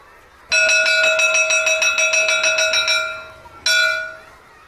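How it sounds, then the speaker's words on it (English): An electric school bell rings loudly in a long, steady metallic peal of about two and a half seconds, stops briefly, then gives one short final burst. "I want to ring the bell."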